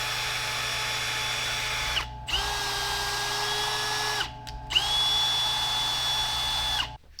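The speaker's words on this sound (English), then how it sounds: "I'm gonna power tap these, because this is a small hole, and it's a really good tap" Power drill driving a tap into a small hole on motorcycle parts, a steady high whine in three runs with pitch shifts as the load changes and short pauses between, close and fairly loud.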